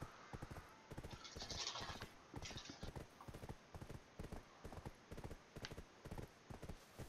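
Horse hooves clip-clop at a brisk, steady trot in the online game Black Desert Online, a continuous rhythmic clatter of many quick hoofbeats with a few brief hissing rushes in the background.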